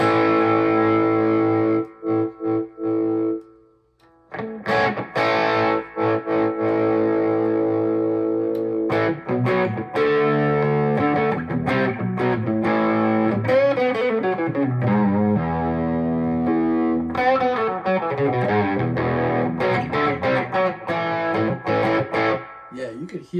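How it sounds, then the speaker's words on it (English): Electric guitar fitted with Hot 70 pickups, played on the neck pickup through an amp, with distortion and effects. Continuous chords and single-note lines fill the whole stretch, loud and close, with one short pause near the start. "the neck pickup sounds fantastic. So these are Hot 70 pickups that they use on here, and they are so sweet."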